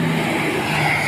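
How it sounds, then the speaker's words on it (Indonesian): A red bus rolls past at a roadside spot in Tepung Kunjat, Banjar, its engine droning steadily and fairly close for about a second, with a low tonal hum beneath broadband road noise. "di belakang disusul lagi dari mobil bus berwarna merah"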